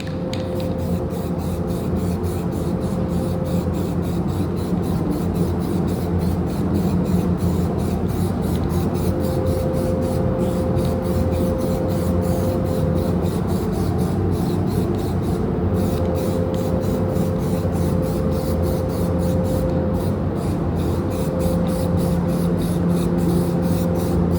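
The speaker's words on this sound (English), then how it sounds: "So I'm just gonna dust coat just a little bit with some rattle can primer." A rattle can of primer hisses continuously as it dust-coats a vehicle axle, a loud, close, unbroken spray lasting the whole stretch with no talk over it.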